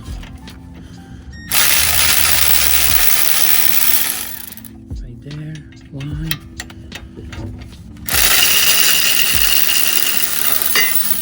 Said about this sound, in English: now once again I'm gonna use the help of this power tool